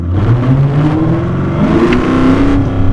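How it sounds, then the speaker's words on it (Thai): A Mercedes CLS W257 fitted with a THOR Active Sound system revs loudly and up close, its engine note climbing, dipping through a gear change and climbing again. "อันนี้คือปล่อยคันเร่งออกนะแล้วพอเหยียบคันเร่งออกไปอ่ะจังหวะที่เปลี่ยนเกียร์เนี่ย"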